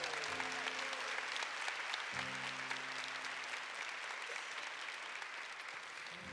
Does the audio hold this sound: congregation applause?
yes